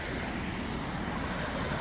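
Water rushing over a washed-out old logging road beside a culvert, a steady broadband wash with wind noise, close and continuous with no talking.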